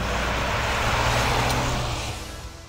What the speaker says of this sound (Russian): приз за самый отвратительный звук V6 я отдаю сюда